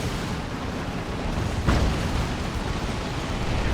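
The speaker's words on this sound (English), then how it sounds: "A grenade." A single grenade blast in Dawn of War 2, a deep broadband boom that rises briefly out of the dense, continuous din of a 3v3 battle.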